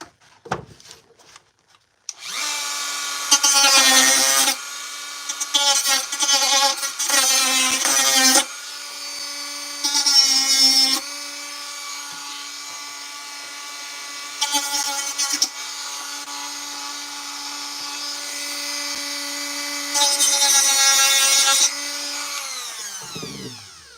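A power tool trims a Purge Trooper armor piece, whining loud and close in repeated bursts of a few seconds each, with brief pauses between passes.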